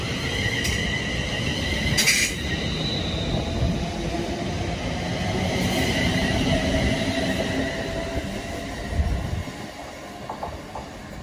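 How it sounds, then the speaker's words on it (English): An express train runs straight through a station toward Euston, giving a steady, fairly loud rush and rumble with faint clicking of wheels and brief high squeals, with no talking. "Watch an express go straight through if you want before we leave."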